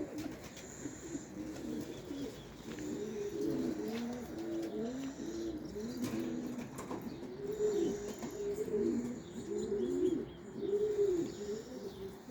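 Pigeons in a loft, with young birds making first flights, coo in soft repeated low phrases with light chirps around them, moderately near over faint background noise.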